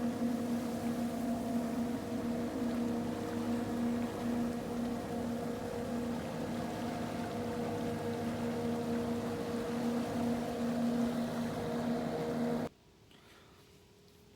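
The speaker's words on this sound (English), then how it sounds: "That looked like a reed cutter to me." A reed cutter boat on a river drones steadily nearby, a constant low engine hum with water noise that holds for about twelve seconds, then cuts off abruptly to near quiet.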